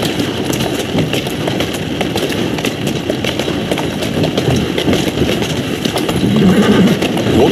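Horse in Assassin's Creed Syndicate walking with steady clip-clop hoofbeats under a busy game soundscape of street noise, with a possible whinny near the end.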